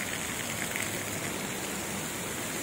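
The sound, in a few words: heavy rain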